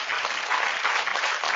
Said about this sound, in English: Round of applause for everything's for sale.